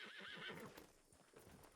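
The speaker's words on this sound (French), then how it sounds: "Ah, il est là, votre cheval." Horse in the video game Red Dead Redemption, a loud whinnying neigh followed by shuffling hoof clops, close and clear.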